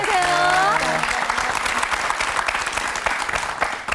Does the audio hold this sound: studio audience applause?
yes